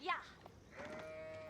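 A short sheep bleat in Age of Empires IV at the start, followed by a faint sustained tone and soft background noise, low in level.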